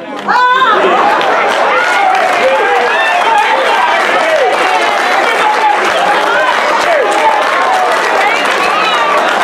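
An audience of listeners at a talk on Pan-Africanism applauds, steady dense clapping mixed with cheers and crowd chatter, loud and continuous throughout.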